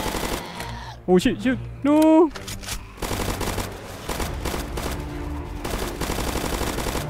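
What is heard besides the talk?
gunfire shooting zombies in Roblox Zombie Uprising video game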